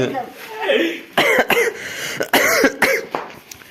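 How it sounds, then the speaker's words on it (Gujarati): Several sharp coughs in short bursts, close to the mic, with some talking in between. "ઉધરસ થોડી થોડી બહુ નથી"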